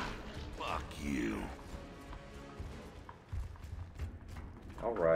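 A door mechanism opening in the Gears of War video game, heard as mechanical creaking and ratcheting gear sounds with clanks, alongside game audio and someone talking over it.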